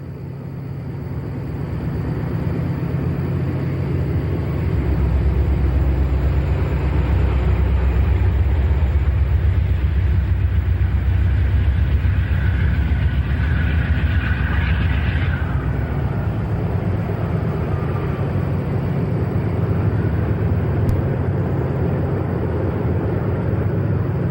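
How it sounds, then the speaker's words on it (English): Conrail diesel locomotives rumble steadily from a distance near the Portage and Allegheny tunnels, a low, continuous engine drone building over the first few seconds and then holding evenly. "Certain that we had heard diesels exiting the new Portage Tunnel below us"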